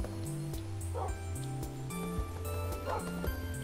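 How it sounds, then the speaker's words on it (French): Dogs bark and yip repeatedly in the video game Across The Time, short sharp barks recurring every half second or so over a rhythmic game music track. "Il y a des chiens de partout, c'est horrible."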